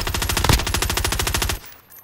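Rapid automatic gunfire in the Warzone video game, a loud, evenly spaced stream of shots lasting about one and a half seconds and then stopping abruptly.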